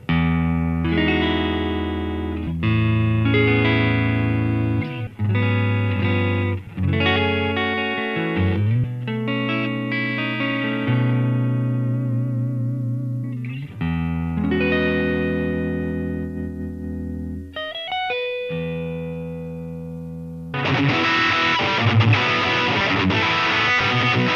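Electric guitar through an amp modeler with reverb, clean chords and picked notes ringing out from a Fender Twin-style amp, then a brighter, more driven strummed passage through an OCD-type overdrive near the end.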